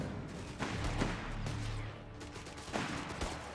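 Bursts of rifle and machine-gun fire aimed at soldiers in cover in the World War II strategy game Company of Heroes 3, fairly faint, with overlapping shots and a couple of louder cracks.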